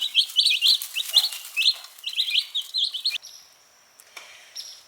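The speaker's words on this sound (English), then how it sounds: "They're doing some pecking and looking and learning their way around their new environment. They're learning to be chickens." Young chickens settling into a new environment give repeated high chirps and tweets in the first few seconds, close and fairly loud, then fade to a few faint peeps.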